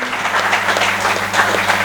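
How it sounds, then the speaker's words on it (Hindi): Loud applause from an audience welcoming a guest, Mr. Sharma, at a first anniversary celebration. Dense, steady clapping fills the short stretch, with a low steady hum running underneath. "सभी लोग शर्मा जी का जोरदार तालियों के साथ स्वागत करें"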